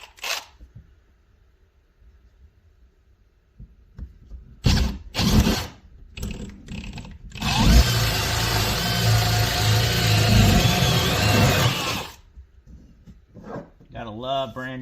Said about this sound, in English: And drill out the corners.